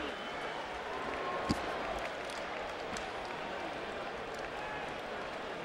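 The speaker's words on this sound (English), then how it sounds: "A mixed response from the crowd after a whitewash domination of Baldomir by Mayweather." A boxing crowd after Mayweather's lopsided win over Baldomir murmurs and mutters in a broad, steady wash of noise, with a sharp clap or thud partway through.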